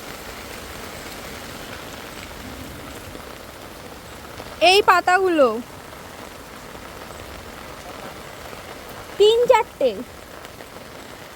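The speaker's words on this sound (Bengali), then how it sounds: "চরম বৃষ্টি হচ্ছে।" Heavy rain falls steadily on garden plants, a continuous soft hiss throughout, with a person speaking briefly twice over it.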